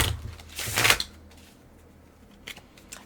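Tarot cards being shuffled by hand, a riffling burst of papery rustle that peaks near the start, then a quiet stretch with two brief card taps or flicks toward the end.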